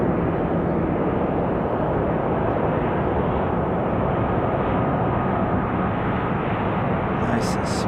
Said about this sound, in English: Nice smooth arrival for this JetBlue from JFK